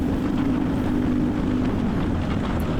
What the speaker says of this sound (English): I'm hitting the rev limiter really early